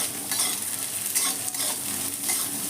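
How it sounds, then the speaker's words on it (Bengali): Onions fry together with drumstick pieces in a pan for a masala curry, making a dense, steady sizzle with faint stirring, close and continuous without any voices. "পেঁয়াজটা দিয়েও আবার ভেজে নেবো"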